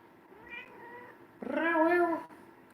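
A kitten gives one loud, drawn-out meow close by, preceded by a fainter short mew in a quiet room.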